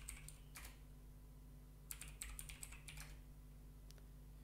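Password typed on a computer keyboard during an Arch Linux install, with two short bursts of quick, light key clicks over a faint steady hum, close and quiet, with no talking.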